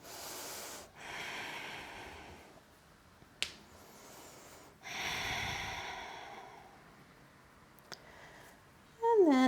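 Slow, deep breaths during a yoga stretch for the outer right hip: several long, close airy exhales separated by quiet pauses, with a couple of small clicks between them.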